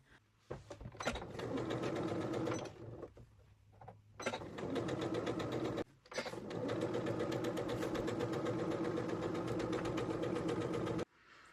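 Sewing machine stitching the side seams of a fabric beach bag, long sustained runs of rapid motor-driven stitching broken by a few brief pauses, close and fairly loud, without speech.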